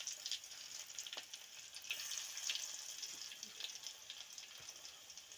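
Garlic sizzles in hot oil with cumin, mustard seeds and curry leaves, a steady crackling fry with faint stirring, close and fairly quiet, for a North Karnataka-style peanut sambar.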